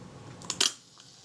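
A soft mechanical whir followed by a crisp double click of a camera shutter, close and quiet, then stillness.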